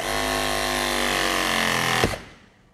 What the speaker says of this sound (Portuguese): eu vou crimpar até o final e a máquina vai retornar o pistão hidráulico sozinha